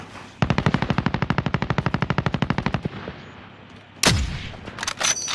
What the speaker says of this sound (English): Oh shit, they're shooting at us.